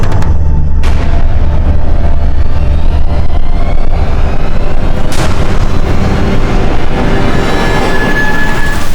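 Loud, dense booming blasts in a tense crime-drama scene, with a sharp crack near the start and another strong burst around the midpoint over a continuous rumbling din; no talking.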